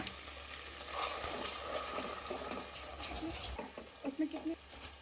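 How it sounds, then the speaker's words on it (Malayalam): Garlic frying in melted butter for butter chicken, a gentle sizzle with stirring scrapes and a few clinks, quiet and close, with faint voice-like sounds in the background. "അതിലേക്ക് നമുക്ക് വെളുത്തുള്ളി എടുത്ത് ഇട്ട് കൊടുക്കാം"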